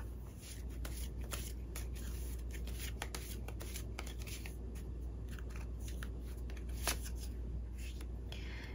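Tarot cards shuffled by hand in a quiet room, a steady run of soft papery riffles and flicks lasting several seconds, close and fairly quiet with no talking.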